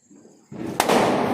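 A single sharp crack of a small Deepavali firecracker going off close by in damp conditions after rain, followed by a burst of hissing, crackling noise.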